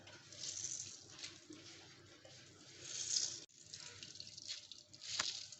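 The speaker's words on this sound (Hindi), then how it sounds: "हाथ से इस तरह मैं इसका पानी निचोड़ लूँगी।" Grated bottle gourd squeezed by hand to press out its water for kheer, giving soft, close wet trickling and dripping with faint squishes, quiet and steady for several seconds.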